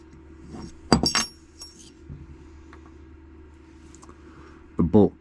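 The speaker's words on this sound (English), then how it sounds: "I'm going to start by removing the firing pin, retaining pin, and then the firing pin." Metal parts of an AR15 bolt carrier group are handled as the firing pin and its retaining pin are removed. A few quiet, short metallic clinks and jangles sound near the start and again at the end, with soft handling noise between.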